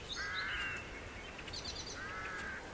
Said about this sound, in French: Observez les corbeaux.